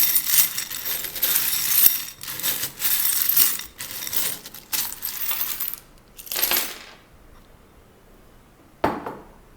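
Small metal charms tumble and clatter onto a surface for a tarot-style reading, a dense rattling jingle of many pieces that fades, then one last sharp clink near the end, close and without talk.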